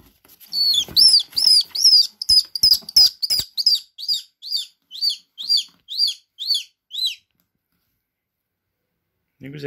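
A rain-soaked swallow sheltering on a balcony gives a rapid series of about fourteen bright, close chirps that slowly fade and stop, followed by silence and a brief noise at the end.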